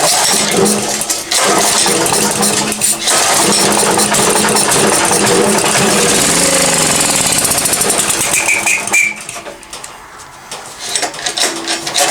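A generator of unknown make, primed with brake cleaner, cranks and catches, giving a loud, busy mechanical clatter that runs steadily for most of the stretch before dropping off near the end.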